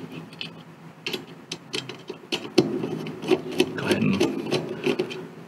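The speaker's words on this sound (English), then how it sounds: "this is a simple matter of just removing a couple of screws here" Screws being removed from a card bracket inside a 2U Rosewill RSV-Z2600 server case, heard as a series of close, short metallic rasps, scrapes and clicks in an irregular rhythm with no talk.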